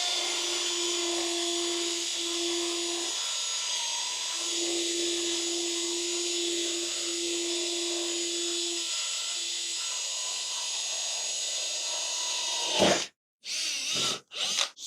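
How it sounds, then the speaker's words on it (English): A steady high-pitched drill whines for about twelve seconds at constant speed while boring wood with a Forstner bit, then cuts off abruptly, followed by a couple of brief clunks and noises. "2x3 Forstner bit."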